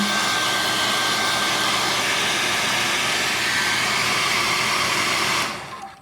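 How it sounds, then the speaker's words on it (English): A hair dryer runs at full blast over 20 mm cannon brass, with a loud, steady whooshing roar, then cuts off abruptly at the end. "go ahead and run the hair dryer on a certain area at a time"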